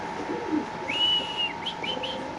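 Racer pigeons at a pigeon sale give a few short, high chirping calls in the middle of the stretch, over a steady background hum with no talking.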